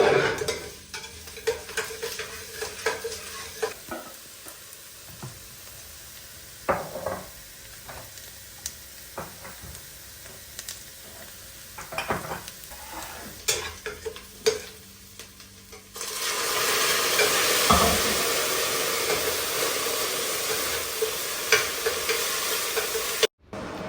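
Celery, onion and carrot are stirred in a pot, with a soft sizzle and frequent clinks and scrapes of a spoon against the metal, then a louder, steady hiss of frying takes over near the end.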